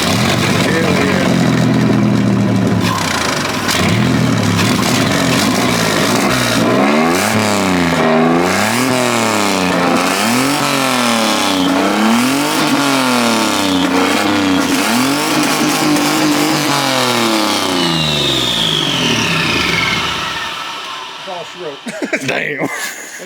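Junkyard Mustang fitted with twin turbos, its belt broken and water pump not turning, cranks, catches and revs in repeated rising and falling sweeps before cutting off, loud and close.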